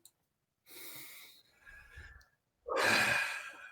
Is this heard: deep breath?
yes